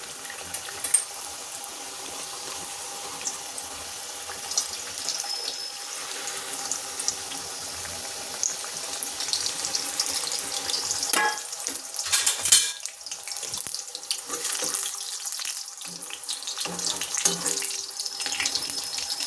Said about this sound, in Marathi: आता आपण केलेल्या पुऱ्या आपण आता हळूहळू याच्यात सोडूयात.